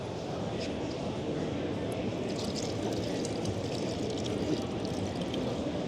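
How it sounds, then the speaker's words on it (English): Water runs continuously from the push-button tap of a camping water container, making a steady, even rushing hiss from start to finish with no pauses. "the water runs constantly until you release it again"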